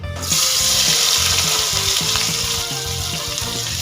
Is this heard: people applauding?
no